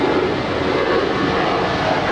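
A Boeing 787-8 Dreamliner jet airliner of American Airlines at Los Angeles airport gives off a steady, loud, broadband engine roar that holds evenly throughout, with no talk.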